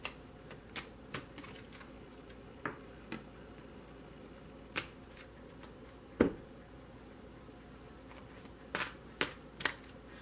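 Sharp, scattered tarot card snaps and flutters from shuffling, coming in irregular bursts over a quiet background with no voices.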